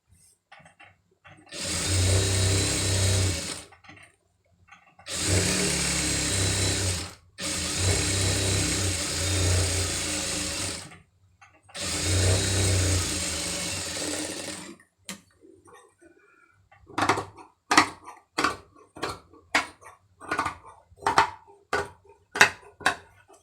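A sewing machine stitches a designer sleeve in three steady bursts of several seconds each with pauses between. It then gives a run of short, sharp clicks and taps.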